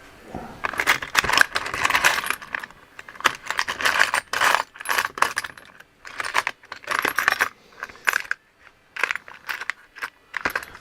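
Allen keys are handled and jangled in bursts of bright metallic clinks and rattles, close and loud, with short pauses between handfuls and no talk.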